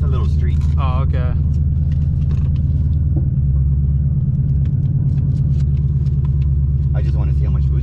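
A twin-turbo Ford Mustang with a 10R80 transmission rumbles loudly and pulls hard on a street, its deep engine drone filling the clip while voices speak faintly inside the car.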